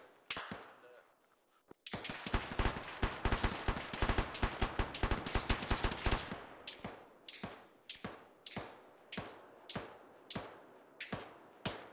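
Gunfire in a video game: after a brief quiet moment, a rapid automatic burst rattles for several seconds, then gives way to single shots spaced about half a second apart, sharp and close.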